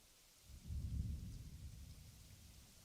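In the Planet Zoo video game, a low rolling thunder rumble swells and slowly fades over a constant wash of falling rain, heard alone and fairly quiet.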